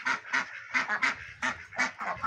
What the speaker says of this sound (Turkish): Yaban ördek çeşitlerimiz de var. Pekin ördekler.